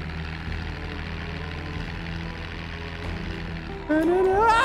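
A heavily damaged car engine in Project Zomboid runs with a low, steady knocking idle. A rising, pitched sound joins near the end as the level jumps.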